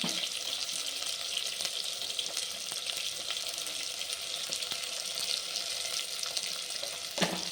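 Curry leaves and turmeric powder fry in hot oil with onions for a small-onion kuzhambu, a steady bright sizzle and crackle running unbroken and close throughout.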